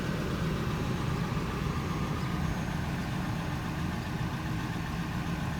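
A 2004 Ford Expedition Eddie Bauer 2WD with the 5.4 Triton V8 idles close by, giving a steady, even low rumble with a constant broadband hum and no revving.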